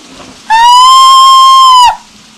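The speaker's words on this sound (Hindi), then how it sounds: "सीटी की आवाज" A single loud, steady high-pitched whistle holds for over a second, then cuts off abruptly, with quiet surroundings before and after.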